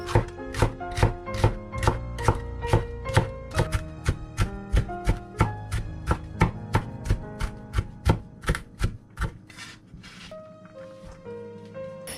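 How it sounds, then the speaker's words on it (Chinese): A knife chops four cored green peppers, first into strips and then into fine bits, with steady, crisp thuds on a cutting board, close and clear, slowing and thinning out toward the end. "先切成条，最后再剁成碎末，也放到刚才的肉盆里"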